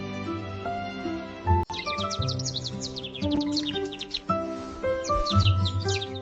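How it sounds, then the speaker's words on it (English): Several village birds chirp and sing in quick, bright repeated phrases, fairly close, with a short sharp click partway through and no talking. "The birds came back, singing just for her."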